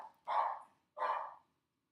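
A dog barks twice, two clear, separate barks about half a second apart, close by and fairly loud against an otherwise quiet room.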